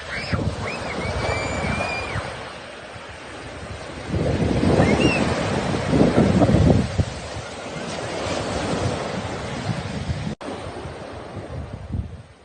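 Strong wind and breaking waves at the sea, a steady rush of surf and wind buffeting the microphone, swelling louder in the middle, with faint voices in the background.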